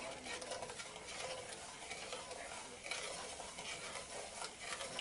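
Rum and coke sauce for pork chops being stirred in a pan, a faint continuous scraping and soft bubbling sizzle, close but quiet, with no speech.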